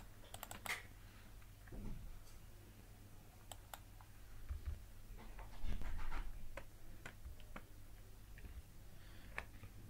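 Keys clack on a computer keyboard as code is typed, sparse irregular clicks and short runs of taps, quiet and close, over faint room hum with no speech.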